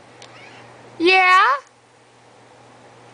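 A house cat gives one clear, close meow with a rising then bending pitch, about half a second long, set against quiet room tone, with a person speaking briefly nearby.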